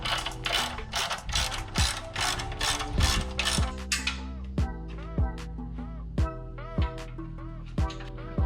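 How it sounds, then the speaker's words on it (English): Painted mounts get bolted onto a minibike frame with a ratchet. A dense run of fast clicking gives way to slower, evenly spaced single clicks, close and fairly quiet, with no talk. "So I'll go ahead and bolt these on here and then bolt on that cross mount."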